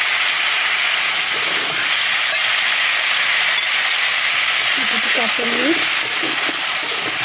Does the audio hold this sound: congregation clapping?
no